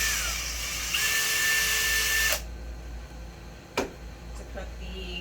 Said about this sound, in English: I'm drilling a hole